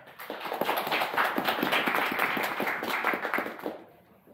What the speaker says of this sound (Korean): 그럼 신정규님을 박수로 맞이해 주시면 감사하겠습니다